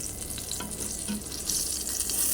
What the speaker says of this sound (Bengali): এই 4টা পটল এখন আমার জন্য ভাজি করে নিতেছি